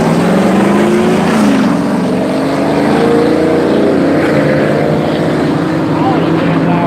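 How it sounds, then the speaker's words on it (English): Loud cars passing by outdoors on a street, a steady roar of engines that swells and fades in a continuous stream, with someone talking over the traffic noise. "All the damn loud cars out today, huh?"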